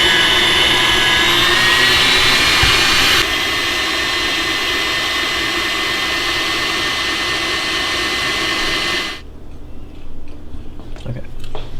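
A stand mixer runs on high speed whipping cream until it breaks into butter, giving a loud, steady whirring drone close by that drops in level partway, then cuts off, leaving quieter handling noises.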